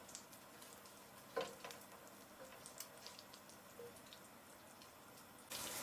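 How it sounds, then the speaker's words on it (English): Black cumin seeds frying in hot oil in a pot where fish was just shallow fried, with a soft, steady sizzle, scattered crackles and a louder scrape of stirring partway through. "In the same pot, add the black cumin seeds and give them a stir"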